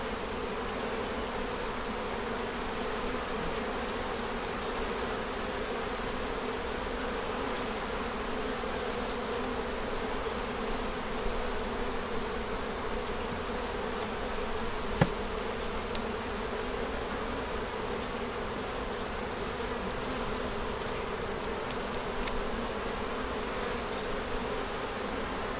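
Honey bees buzz at an opened hive during a honey pull and queen check, a dense steady drone of many insects close around, continuous and even throughout with a single faint click partway.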